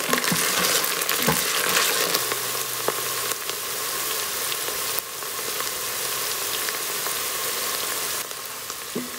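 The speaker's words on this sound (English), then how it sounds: "fry the ginger garlic paste in the oil for 2 minutes till the raw smell goes away" Ginger garlic paste sizzles in hot oil in an Instant Pot while making vegetable pulao, a steady close crackling fry with occasional stirring scrapes and no voices.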